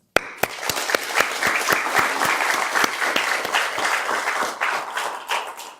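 An audience at a state grant funding announcement breaks into loud, steady applause that starts abruptly and continues for several seconds before fading slightly, with no talking.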